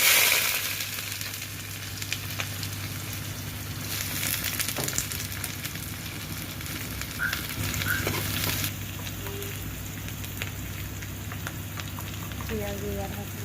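A whole onion drops into hot oil with cinnamon, cardamom and cloves, setting off a close, steady sizzle and crackle with a few scrapes and clinks, while a voice talks over it now and then.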